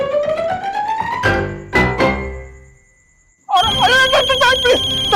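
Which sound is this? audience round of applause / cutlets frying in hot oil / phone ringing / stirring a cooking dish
phone ringing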